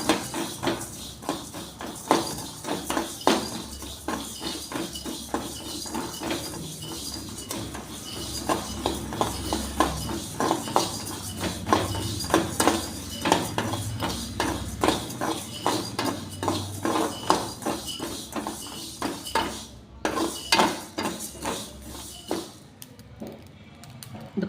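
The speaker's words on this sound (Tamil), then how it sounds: "லைட்டாக சிம்மிலே வச்சு வறுத்துக்கோங்க" Spices dry-roasting over a low flame in a pan: a long run of quick, light scraping and tapping as a spoon works the pan, a steady metallic rattle with a faint sizzle beneath, no voices.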